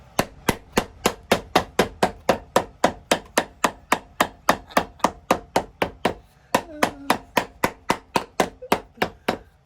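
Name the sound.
hammering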